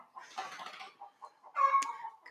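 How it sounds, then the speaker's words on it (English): A chicken clucks outside an open window, a few short nearby calls and squawks over a quiet room. "Noisy chicken."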